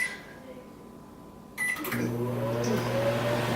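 A click and beep, then a microwave oven starts up at 70% power, cooking a cake, with a steady low hum running continuously.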